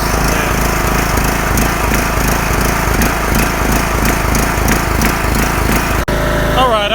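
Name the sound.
old Craftsman lawn mower engine with reconditioned motor running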